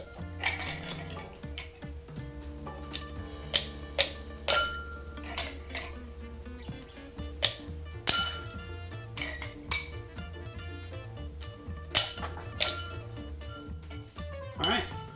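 Ice for a Vieux Carre cocktail being cracked, a series of sharp clinks and knocks in an irregular rhythm, close and bright, with a low tonal background hum and talking over it.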